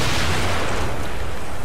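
A loud, dense explosion rumbles from the horror game The Evil Within, a brief wall of booming noise with no speech.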